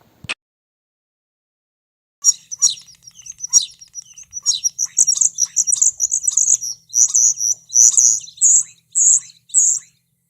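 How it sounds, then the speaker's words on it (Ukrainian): A swallow sings alone in a clear, rapid series of high twittering chirps and trills, close and fairly loud, after a short faint click and a pause. "Ластівка це перелітня птаха, може жити поруч з людиною."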